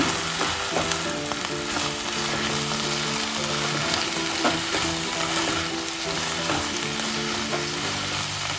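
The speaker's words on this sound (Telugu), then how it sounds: "మునగాకులు వేసుకొని వేయించాలండి." Drumstick leaves fry in a pan, producing a dense, loud, unbroken sizzle with faint stirring clatter throughout, close up and without voices.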